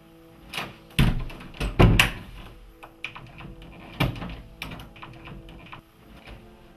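An indoor door is swung shut with a few solid knocks and thuds, including one sharp bang, in a quiet room without speech.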